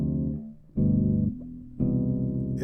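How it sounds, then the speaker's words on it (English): Guitar strums a 2-5-1 progression in triads, three sustained chords with a dip and short quiet gap between them, played alone and close. "is the sound of a 2-5-1 chord progression"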